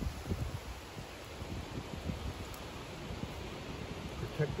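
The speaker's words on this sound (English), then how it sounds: "Bad time for the wind. Start kicking up." Wind blowing outdoors, a steady broadband rush with gusty low buffeting against the microphone, moderately faint and continuous.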